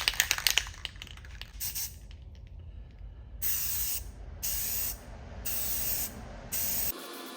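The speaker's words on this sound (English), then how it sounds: "We'll spray some black and then we'll let it sit" Black spray paint from an aerosol can is sprayed onto a Les Paul style electric guitar body in four sharp, evenly spaced hissing bursts of about half a second each, preceded by can rattling and clicking.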